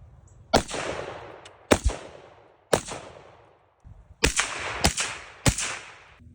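A 10.3-inch-barrel MK18 Mod 0 rifle fires six sharp shots, spaced in two groups of three, loud and close, with some shots suppressed and others unsuppressed, each trailing a brief echo.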